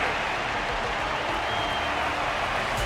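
Continuous dense applause from a large crowd in the game Honkai: Star Rail, steady and unbroken throughout, with no voices standing out.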